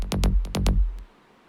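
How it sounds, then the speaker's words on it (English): Five quick punchy synth bass notes with a buzzy, bright saw tone, followed by a short fainter hit and then quiet. "So like a classic saw bass"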